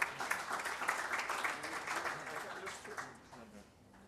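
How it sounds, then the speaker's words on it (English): A small audience at a talk claps in a brief, fairly faint round of applause that fades out toward the end. "Second applause is for Pelle, who will take over the stage."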